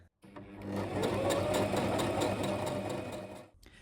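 A sewing machine runs a steady stitching burst along a tri-folded kimono edge, starting abruptly, holding an even mechanical whir for about three seconds, then stopping, close and clear with no voices.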